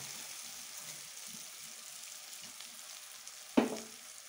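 Potatoes drop into sizzling chana ghugni masala in a pan: a steady, soft frying hiss runs throughout, then a sharp splash-and-sizzle burst near the end as the potatoes land, fading back to the simmer.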